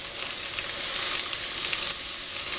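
Shallot and shiitake mushroom sizzle steadily in a hot pan for dim sum taro rice cake, a dense, bright crackle close up that holds level throughout with no voices.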